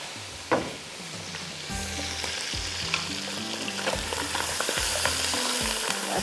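Black pepper and garam masala roasting in a pan for mutton white karahi give a steady, close sizzle with repeated stirring scrapes and clinks throughout, and no one speaks.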